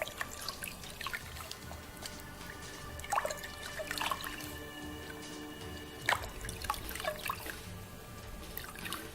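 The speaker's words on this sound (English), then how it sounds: "It's a good idea to rinse off the worst of the excess dye in a bucket" Tie-dyed fabric being rinsed in a bucket of water, with irregular drips and trickles splashing back into the water, some louder drops standing out against a quiet, steady background.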